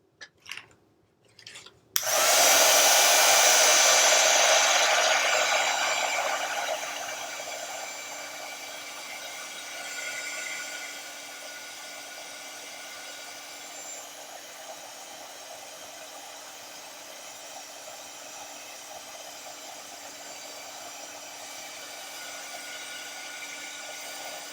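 After a few clicks, a heat tool blasts on loudly and steadily, then settles to a softer, continuous whooshing hum as it melts embossing powder on a stenciled surface, running on without any voices.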